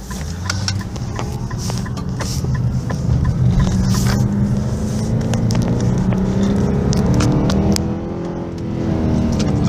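An Infiniti M56 with automatic transmission pulls away hard from first gear, its engine rising in a steady, loud near drone over about ten seconds, with a brief dip before climbing again.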